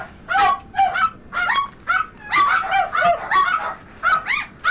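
Several dogs barking repeatedly indoors in a house, sharp overlapping yips and barks in quick bursts with short gaps, fairly loud and close, with some whimpering mixed in.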